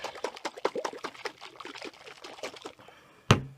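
A bottle of homemade Mod Podge, made from PermEnamel or an acrylic varnish thinned with water, is shaken by hand, giving a run of quick, close liquid sloshes and splashes that ends in one sharp knock.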